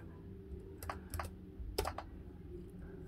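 A few quick, faint keystrokes on a Sinclair ZX Spectrum Next computer keyboard, clustered in short bursts with quiet gaps between.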